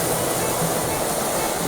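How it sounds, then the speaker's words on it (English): Crookburn Falls in Northumberland roars steadily, a dense, constant rush of falling water heard close and loud with no breaks. "There's the waterfall."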